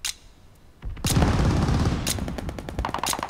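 Rapid machine-gun bursts and booming shots from a Call of Duty Vanguard beta match, loud and dense, rattling continuously for several seconds after a brief quieter opening.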